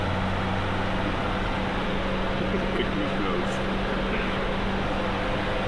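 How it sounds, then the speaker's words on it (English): Car engine idling steadily after being started during a MAP sensor vacuum test, a constant low hum with a strong low-frequency drone, close and continuous with no talking over it. "if we'll have our lovely assistant, Justin, start the vehicle"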